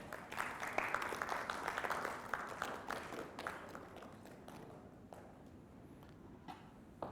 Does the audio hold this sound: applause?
yes